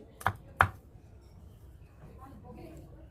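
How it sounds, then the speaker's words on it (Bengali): Two sharp knife chops on a board while cutting tomato, coriander leaves and cucumber, close and fairly loud, followed by quiet kitchen background. "এখানে টমেটো ধনিয়া পাতা আবার শসা কুচি করে নিচ্ছি"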